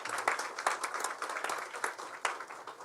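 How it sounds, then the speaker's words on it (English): An audience at Governor Moore's 2025 Preakness announcement claps for the First Lady, a steady moderate patter of many hands that runs without a break. "if we could please give a round of applause to our state's amazing First Lady"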